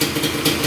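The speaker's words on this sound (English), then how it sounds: "Idling perfectly." A 2-stroke quad engine idling, a dense, buzzy, slightly uneven putter with a rattly edge, close and steady for under a second with no talk.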